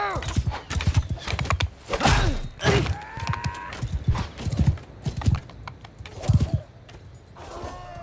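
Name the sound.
horse hooves in the video game Mount & Blade 2 Bannerlord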